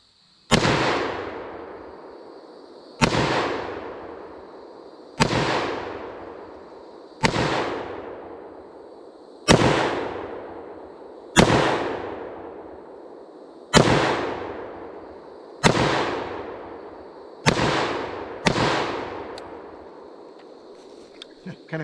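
A FEG HD18 Dragunov rifle fired at an outdoor range: ten loud, sharp shots spaced about two seconds apart, each followed by a ringing echo that decays before the next.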